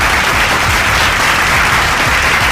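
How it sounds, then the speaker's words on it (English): Steady, dense applause from a school audience at a secondary-school debate final in Abia, filling the whole stretch loudly and evenly with no voices over it. "A round of applause."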